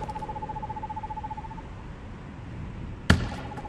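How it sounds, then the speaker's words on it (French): An owl hoots in the video game Perception with a steady, repeated tonal call over a low ambient rumble, then a sudden sharp thump cuts in and the hooting carries on faintly. "Il y a un oiseau. C'est juste un oiseau."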